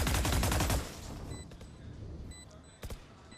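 Pistol gunfire in Valorant during a pro match post-plant, a quick loud string of rapid shots at the start, then scattered quieter pops and game effects fading out.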